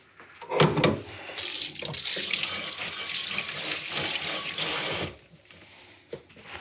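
Hands are rinsed under a running kitchen tap, a close, steady gush of water splashing into the sink for several seconds before it shuts off, followed by a faint clink.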